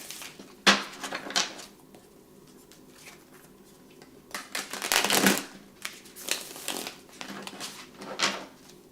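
Crisp riffling bursts of a large tarot card deck being shuffled, several separate shuffles with brief pauses between them, close and fairly loud.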